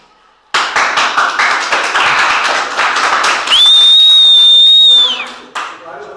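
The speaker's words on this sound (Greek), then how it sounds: "Ένα χειροκρότημα! Ένα χειροκρότημα!" A crowd gives a brisk round of applause at a Greek telethon-style gathering. The dense clapping starts abruptly and runs for several seconds. A sharp whistle rises over it near the end before the clapping tapers off.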